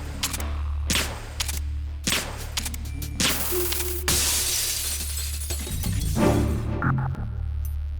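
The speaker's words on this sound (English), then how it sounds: "You can shoot this glass multiple times." Gunshots strike glass in Metal Gear Solid 2, several sharp cracking hits in sequence followed by a loud, sustained shattering crash and tinkling debris.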